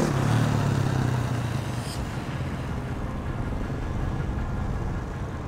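A motorcycle engine runs steadily during wheelie practice, a low droning rumble that holds fairly constant with a brief brighter burst near the two-second mark, heard without any talking.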